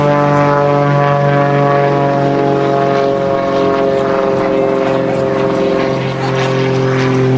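A propeller aerobatic plane at an airshow with the nose pushed down and the throttle run fully open, giving a loud, steady, harmonic-rich engine drone with a sustained tone throughout.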